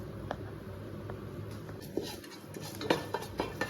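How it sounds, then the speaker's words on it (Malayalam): Whole spices such as cinnamon, cardamom, cloves and mace in ghee in a biryani pot being stirred, giving light scattered clicks and scrapes of a utensil over a faint sizzle. "ഒന്ന് ഇളക്കി കൊടുക്കാം"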